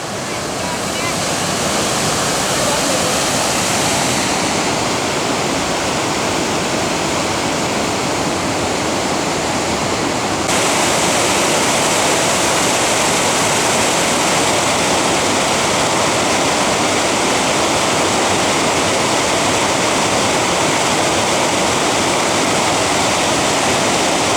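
The Temperance River in Minnesota rushes through its gorge, a loud, constant roar of churning whitewater that fills the whole scene without pause.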